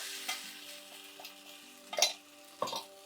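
A spoon stirs rice flour dough with water in a hot pan, giving a few soft scraping strokes and a light sizzle, fairly close and quiet, with two louder scrapes near the end.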